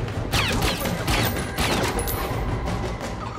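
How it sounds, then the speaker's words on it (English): A fusillade of gunshots in a scene from The Bourne Supremacy (2004), a dense, continuous crackle of rapid fire with sharp cracks over a noisy background, fairly loud and steady throughout. "Those are shots."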